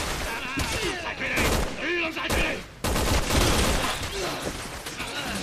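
Gunfire in the Resident Evil 6 co-op demo with Chris and Piers, rapid bursts of shots running almost throughout under and between excited speech, with a brief drop near the middle before the firing resumes.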